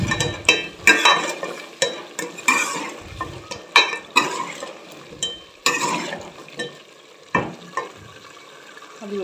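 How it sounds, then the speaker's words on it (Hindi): A metal spoon stirs and scrapes through a potato and cauliflower curry in a home-kitchen pot, giving repeated close, uneven clinks and scrapes with soft sizzling between strokes. "पहले ये चम्मच भी एक दफ़ा चला लूँ क्योंकि मिर्ची ना लग जाए"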